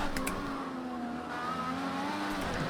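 Race car engine in Project Cars 2, played in VR, holding a steady, buzzing drone as the throttle is eased through a corner. The pitch sweeps gently and a faint tire noise rides underneath.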